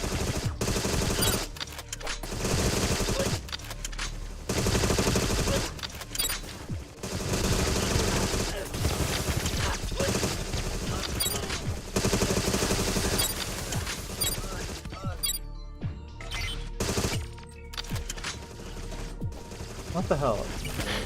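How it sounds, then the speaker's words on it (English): Enemies in the spy shooter game Agent 64: Spies Never Die fire machine guns in dense, rapid, loud bursts that continue almost without pause and are interrupted by a few brief gaps. "They're still shooting me."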